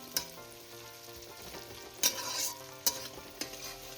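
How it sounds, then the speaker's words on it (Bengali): Onions frying in a pan over a low gas flame, a gentle continuous sizzle broken by several sharp clinks and scrapes of stirring, close and quiet with no talk. "দেখো পেঁয়াজটাকে কিন্তু বেশি ভাজা যাবে না, এই জন্য গ্যাসের ফ্লেমটাকে একদম লোতে রেখেছি"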